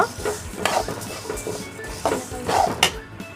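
Moong dal being dry-fried and stirred in a hot wok for khichdi, heard as irregular close scraping and clinking strokes of a spatula against the metal with a faint sizzle beneath.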